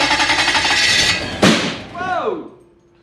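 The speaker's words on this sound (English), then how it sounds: "Yeah, that was a backfire." A Toyota 1UZ V8 sterndrive boat engine is revved, then a single loud, sharp backfire cracks out close by, followed by a startled voice shouting.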